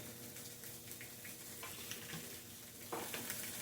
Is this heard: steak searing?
yes